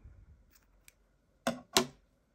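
Scissors snip the end of crochet yarn: two crisp, close cuts in quick succession, preceded by faint handling ticks in a quiet room.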